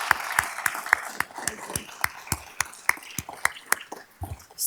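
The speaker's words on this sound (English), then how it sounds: "if you could give a round of applause to our fabulous nurse recruiters who put on this day" Scattered, uneven clapping from a modest audience at a VA nursing awards ceremony honors nurse recruiters, a sparse run of individual sharp claps with gaps between them rather than a full, continuous ovation.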